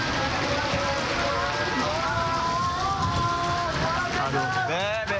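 Heavy rain with strong wind, a loud dense roar of downpour hissing steadily throughout, with a whistling gust near the end.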